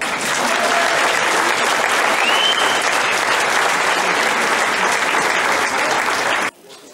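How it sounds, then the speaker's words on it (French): A concert audience claps loudly and steadily for an orchestra player at her first concert, a dense, sustained ovation that holds throughout before cutting off abruptly near the end. "on va applaudir particulièrement Julie parce que c'est son premier concert ce soir"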